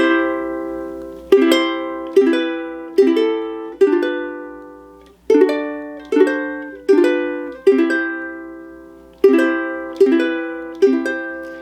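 Ukulele playing a practice exercise of plucked two-note harmony and melody, each note left to ring and decay, in a slow steady pattern of about a dozen strikes, close and clear with no talking.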